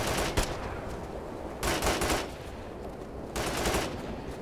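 Bursts of machine gun fire from a firefight in the military shooter Operation Flashpoint: Red River, three sustained volleys separated by short pauses, loud and fairly close.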